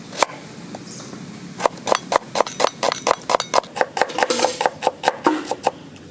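Onions being chopped by hand on a board for a roasted chicken curry cooked in a village setting, a rapid run of sharp, close knife knocks that starts sparsely and then settles into a steady, fast rhythm.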